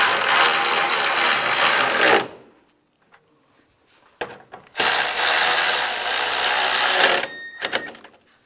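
Radiator bracket mounting bolts are snugged down on a 1999-2005 Volkswagen Jetta with a power tool in two loud, close bursts of whirring about two seconds long each, separated by a quiet gap with a few faint clicks.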